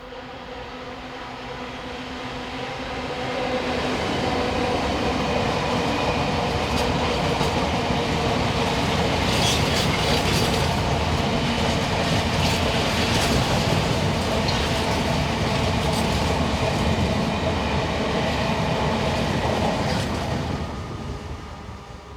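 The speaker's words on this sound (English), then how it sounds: "This is empty iron ore wagons headed by" A freight train of empty iron ore wagons hauled by class 66 locomotive 66112 heading for the Scunthorpe steelworks approaches and rumbles past close by, its loud steady roar and rhythmic wheel clatter holding for about fifteen seconds before fading.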